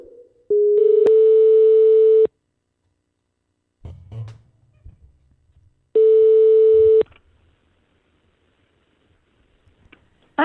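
A telephone ringback tone sounds twice while a call is placed, each a steady electronic buzz lasting over a second, clear and close, with quiet handling noise between the two rings.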